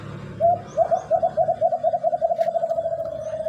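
A tame pet alimokon dove coos close by, a low rolling series of soft hoots that quickens into a steady rapid trill lasting several seconds.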